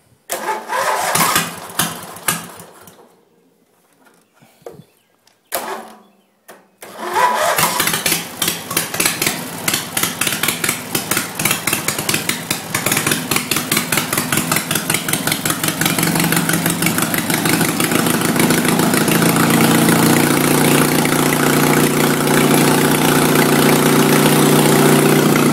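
A small lawn mower engine sputters through a few failed pulls, then catches and settles into a loud, steady, rattling idle that keeps running.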